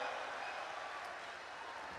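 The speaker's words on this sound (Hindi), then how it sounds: "सर इस पे तो अधिकारी भी ताली बजा रहे हैं।" Applause from an audience at a Hindi comedy poetry recital, a steady dense wash of many hands clapping at once, fairly faint and distant, continuing evenly throughout.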